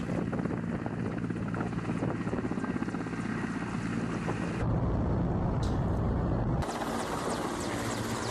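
Loud, continuous thumping roar of a military helicopter's rotor and engine in the war in Ukraine, fitted with cage armor, close and steady, with a couple of abrupt shifts in tone.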